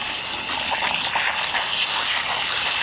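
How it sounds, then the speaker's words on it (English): Water gushing steadily onto a fire ant mound in a yard, a continuous broadband splashing rush that stays loud and close throughout, with no voices. "I'm going to soak that down real good"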